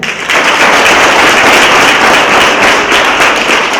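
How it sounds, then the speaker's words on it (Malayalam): Audience applause, loud and sustained, dense clapping filling the whole stretch right after a brief quiet start, with no talking over it. "ഒന്ന് ക്ലാപ്പ് ചെയ്യണേ"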